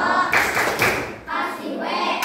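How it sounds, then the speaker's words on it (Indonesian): A class of students claps in an appreciation chant, with several loud, uneven bursts of hand claps and thumps separated by short pauses, close and energetic. "Tepuk apresiasi."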